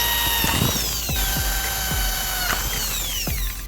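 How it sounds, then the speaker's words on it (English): A power drill with a small bit whines steadily at high pitch while drilling pilot holes in clamped metal bars, its tone dipping and recovering several times as the bit bites into the metal. "clamp them down, and start drilling pilot holes"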